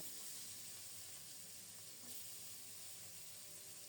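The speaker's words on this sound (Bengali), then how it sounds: "তেল গরম হলে মাছগুলো ছেড়ে দিচ্ছি" Catla fish pieces, rubbed with salt, turmeric and chili powder, frying in hot mustard oil, giving a steady close hiss and sizzle with a faint crackle throughout, no one talking.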